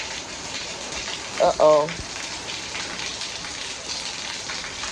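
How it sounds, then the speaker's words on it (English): Steady rain from hurricane rain bands patters and hisses on surfaces throughout, with a brief spoken exclamation partway through. "We still getting rain bands."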